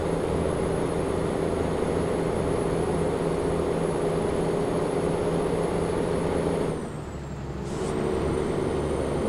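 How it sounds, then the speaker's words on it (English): Truck engine in the video game Euro Truck Simulator 2 gives a steady, droning hum with a constant high whine, briefly dipping in volume before resuming. "Yeah, listen to that engine, yeah?"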